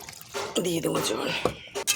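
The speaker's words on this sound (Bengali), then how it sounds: "দিয়ে দেবো জল।" Water pours into a cooking pot of curry with onions over a wood fire, a short liquid gush and splash heard close under someone talking.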